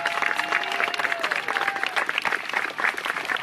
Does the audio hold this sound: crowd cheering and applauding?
yes